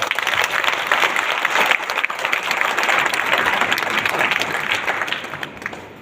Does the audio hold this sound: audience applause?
yes